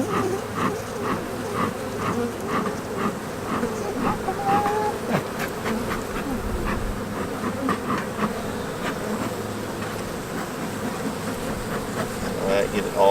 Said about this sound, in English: you want to re-smoke the bottom right here and let it go through the whole hive